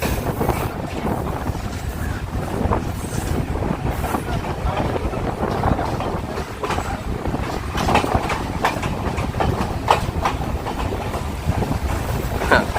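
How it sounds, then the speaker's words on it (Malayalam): A small train runs along a coastal railway track in Sri Lanka, its steady broadband rumble and rattling wheels continuous and fairly loud throughout, with sharper clacks and clatters standing out now and then. "ഇത് ചെറിയ ട്രെയിനല്ലേ?"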